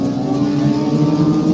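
Legends race cars roll past at Flamboro Speedway after the feature, a steady blend of mid-pitched engine drone and revving, loud and close throughout with no voices.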